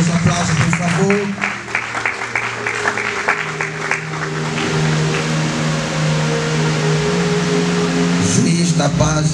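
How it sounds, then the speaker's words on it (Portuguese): An audience at a school ceremony claps for candidates in a sustained round that swells after a spoken announcement, then fades as a voice resumes. "Aplausos, aplausos, por favor."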